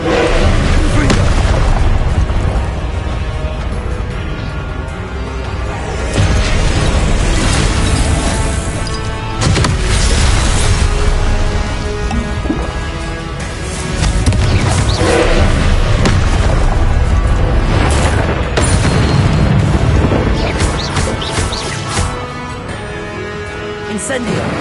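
Repeated booming spell explosions from the Hogwarts Legacy wizarding game erupt in loud bursts over a dense, continuous soundtrack, with a voice shouting spell names throughout.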